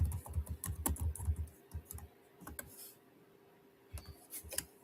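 Someone types on a computer keyboard in quick, uneven bursts of clicks, close and fairly quiet, with a short lull midway before a few more keystrokes.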